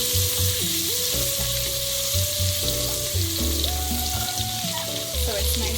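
Olive oil and butter sizzle steadily in a preheated cooking pot, a continuous crackling hiss with a soft melody playing underneath.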